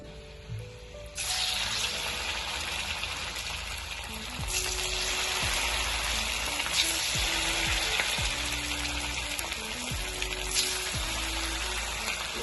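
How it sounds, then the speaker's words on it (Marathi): Fasting medu vada balls deep-frying in hot oil, a steady dense sizzle that swells louder as more balls drop in, with a few soft clinks and splashes between. "आता आपण हे तळून घेऊयात।"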